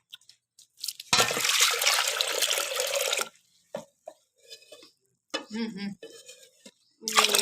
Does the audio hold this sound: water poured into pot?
yes